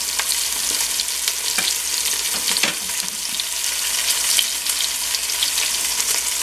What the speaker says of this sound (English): you place it in the hot oil and you leave it for 2 or 3 minutes